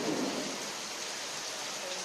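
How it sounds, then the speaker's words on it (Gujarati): Morning rain falling steadily outdoors, a continuous broad hiss that stays even throughout, with a brief murmur of voice near the start. "વરસાદ આવે છે"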